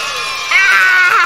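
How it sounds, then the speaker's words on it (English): Shrill, sustained high-pitched screaming of children in the trombone game Trombone Champ, loud and close, swelling partway through and lasting the whole moment without other talk. "Screaming children in my ear."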